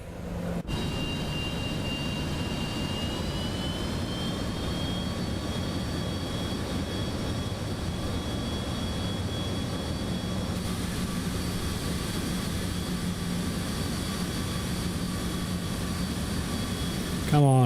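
In the MSFS 2024 flight simulator, a Cessna Citation X business jet taxis with its engines running. A steady high turbine whine rises slightly in pitch over a continuous low rumble.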